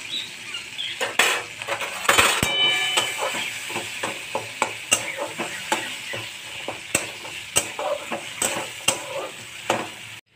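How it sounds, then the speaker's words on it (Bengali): A spice paste of yogurt, ground poppy seeds and ginger paste is fried in a pan under a constant sizzle, punctuated by frequent sharp scrapes and clicks of a stirring utensil in an uneven rhythm; no talking. "এগুলোকে আমি মিশিয়ে বাটনাটা আগে কষে নেবো।"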